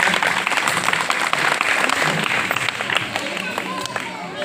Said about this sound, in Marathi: नैताम सरांसाठी जोरात टाळ्या झाल्या पाहिजेत